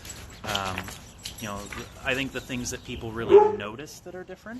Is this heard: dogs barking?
yes